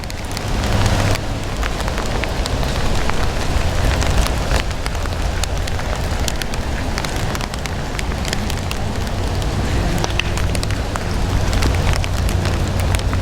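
Heavy, non-stop rain pours down steadily during an outdoor girls' state championship cross-country race in New Hampshire, a dense, continuous hiss of drops on surfaces with no talking.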